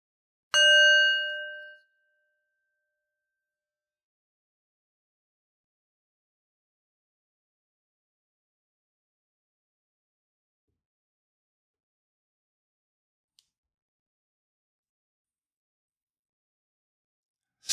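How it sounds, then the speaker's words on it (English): A single bell struck once to open a meditation on Yom Kippur rings out clearly, its bright overtones fading within about a second, followed by long near-silence. "Let's begin by attuning with a bell."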